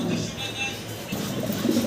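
Caged pigeons at a pigeon seller's coo softly with low, rolling calls, faint under background noise toward the end of the short stretch.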